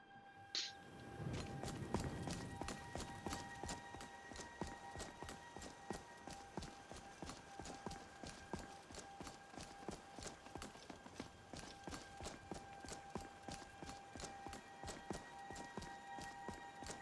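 Steady, rhythmic clip-clop of horse hooves in Skyrim, a long run of regular sharp hoof strikes over a constant low ambient hum, with a brief burst at the start and no talking.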